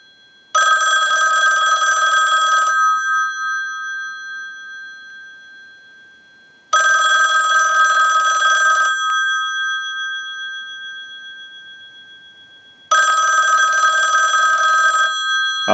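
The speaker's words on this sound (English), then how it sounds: "send a ring cycle like you were getting a call" A Western Electric 554 rotary telephone bell rings in three long, loud bursts of about two seconds each, separated by roughly four seconds of silence.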